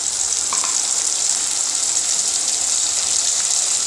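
Ground tomato paste hits onions already frying in a pan, setting off a steady, loud hiss and sizzle that holds evenly throughout with no voices.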